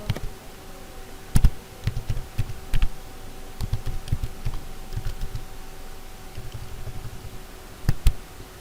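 Keystrokes on a computer keyboard as a Docker run command is typed on a Windows machine, scattered clicks in short bursts with pauses, close and fairly crisp over a steady low hum.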